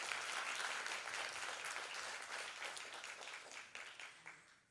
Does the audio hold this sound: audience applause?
yes